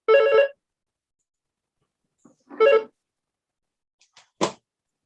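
A telephone bell ringing during a hearing in three separate bursts of repeated electronic trills, fairly loud and close, with quiet gaps between them and no talk over the rings.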